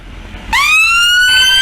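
An ambulance siren sounds at a level crossing, cutting in abruptly and then holding a loud, sustained wailing tone close by, over a low background rumble.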